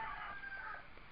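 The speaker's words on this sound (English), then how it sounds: "Please excuse the rooster." A farmyard rooster crows once nearby, a short strained call that is fairly faint and has no talking over it.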